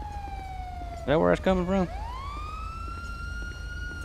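A police car siren in GTA 5 wails in a long descending sweep, then winds back up near the end. Someone speaks briefly over it in the middle.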